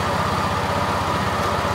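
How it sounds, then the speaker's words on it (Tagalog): A mechanized pomelo brushing machine on a Philippine pomelo farm runs steadily with a dense, continuous motor drone and a rapid low rhythmic churn, loud and close. "Brushing machine."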